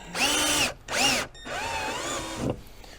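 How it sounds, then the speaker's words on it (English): A step drill bores through the plastic of a pontoon boat in three close bursts of rising and falling whine, the last one longest, with no talking. "I use a step drill. It goes through this plastic fairly easily."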